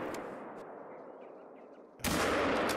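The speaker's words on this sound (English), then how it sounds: "I just pulled the doggone trigger before I even put him in the crosshairs" A single loud rifle shot rings out in the hunting game theHunter: Call of the Wild during a blackbuck hunt, a sharp broadband blast with a trailing echo that follows a stretch of quiet outdoor ambience.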